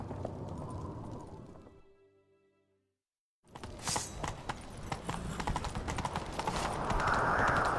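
Horse hooves gallop in a rapid clip-clop rhythm in The Witcher video game, fading to a short silence and then returning louder and busier.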